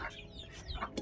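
Chickens cluck a few times, short soft calls close by in an otherwise quiet setting.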